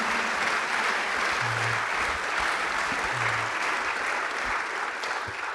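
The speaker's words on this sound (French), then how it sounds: "applaudir tous les quatre." A hall audience applauds steadily after a talk about a freediver, the clapping dense and sustained at moderate volume throughout, with faint low murmurs and no clear speech.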